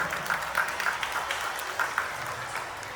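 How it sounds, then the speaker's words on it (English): Faint, scattered applause from an audience at a school golden jubilee and Republic Day celebration, a steady patter of clapping with a few louder bursts, heard at a distance. "I believe sir deserves another generous round of applause for those inspiring words."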